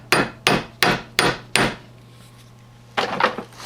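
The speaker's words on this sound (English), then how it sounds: "Grab the hammer again" Five sharp, evenly spaced hammer taps ring out close by as a rifle rod is tapped flush, a short pause, then a quicker cluster of lighter taps.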